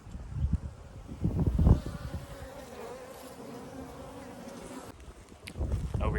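Honeybees in flight around several beehives on a warm 82-degree day, a steady dense buzzing swarm heard close by throughout, with occasional louder rustling bursts and wind gusts near the microphone.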